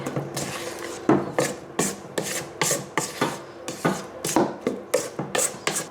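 Brownie batter with crushed nuts is stirred by hand in a bowl, each stroke a rough scraping rub, repeating in a quick, fairly regular rhythm close by.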